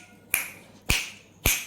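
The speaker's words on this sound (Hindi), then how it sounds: "चुटकी मस्त बजी ना" Three sharp finger snaps ring out at even intervals about half a second apart, crisp and close in an otherwise quiet room with no talking.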